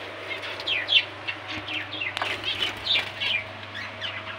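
Pet finches in a breeding cage chirp in quick, repeated high tweets, several birds overlapping close by over a steady low hum.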